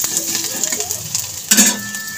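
Chopped onion and garlic sizzle in hot oil in a pan, a soft steady frying hiss with stirring and a sharp utensil clink against the pan partway through.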